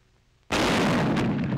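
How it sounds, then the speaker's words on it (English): A T-21 75mm recoilless rifle fires a single loud, close blast after a short quiet lead-in, then a long rumbling roar and echo fill the rest of the moment. "Approximately 200 rounds are fired as the weapon is tried out for Pacific warfare."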